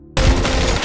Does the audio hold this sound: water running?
no